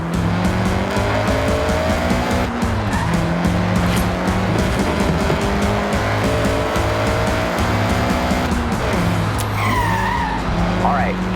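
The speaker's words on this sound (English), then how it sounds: "All right, get the CRX up to speed." Honda CRX accelerating hard in the Forza Horizon 6 racing game, engine revving steadily and loudly throughout, with tire squeal and skidding near the end.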